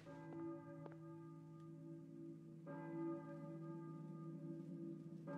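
Church bell tolling in the video game Silent Hill, with three or four resonant strikes whose long, humming tones ring and overlap, fairly faint and distant with no talk over them.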